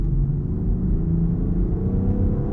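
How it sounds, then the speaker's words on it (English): A 2020 Land Rover Defender SE SUV engine accelerates on the road, a loud, steady low rumble and whir that builds with throttle over a couple of seconds, heard from inside the cabin with no talk. "you can hear the engine is working really hard"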